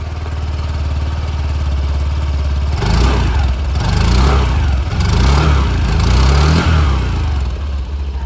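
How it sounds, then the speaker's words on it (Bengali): A 2025 Honda Activa 125 scooter idles with a low steady exhaust putter, then is revved several times in loud close bursts that rise and fall before settling back. "এক্সস্ট সাউন্ডটা আপনারা একবার এখানে শুনে নিন।"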